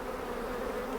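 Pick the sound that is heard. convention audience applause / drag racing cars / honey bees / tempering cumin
honey bees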